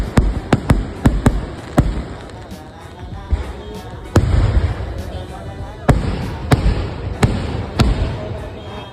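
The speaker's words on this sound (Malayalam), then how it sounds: "അമ്പലത്തിൽ നിന്ന് ഭക്ഷണം കഴിച്ച് നേരെ വെടിക്കെട്ട് കാണാൻ പോയി." Fireworks at a crowded temple festival crack and pop in sharp, irregular bursts, some rapid clusters and some single loud bangs, echoing over a constant murmur of the crowd.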